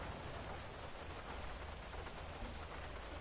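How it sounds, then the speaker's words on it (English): Steady rain in a Grand Theft Auto stunt race, a soft, even hiss of falling drops that stays faint and unbroken throughout. "Rain could cause a few problems for these racers."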